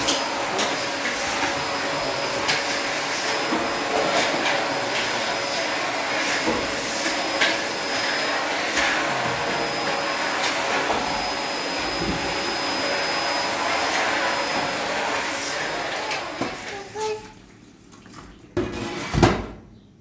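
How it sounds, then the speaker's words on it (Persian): A household vacuum cleaner runs with a steady, close, droning whir for most of the stretch, then switches off and leaves a few knocks and handling noises at the end. "بیا جارو برقی رو"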